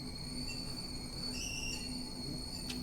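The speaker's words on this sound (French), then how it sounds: "le sifflement d'une bouilloire" A whistling kettle gives a thin, high whistle that holds steadily over a soft hiss, rising briefly in the middle before a faint click near the end.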